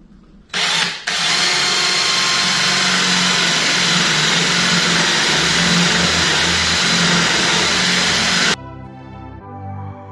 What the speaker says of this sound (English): I'll drill the rest of the way in here